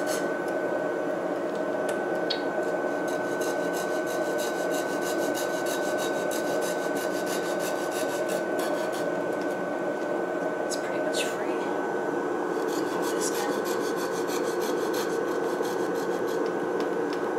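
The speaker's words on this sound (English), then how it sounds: "Got my teeny tiny little saw here, so we'll start cutting off this end." A small hand saw cuts through the end of a wooden wand, producing a steady, close rasping with quick repeated strokes that continue throughout.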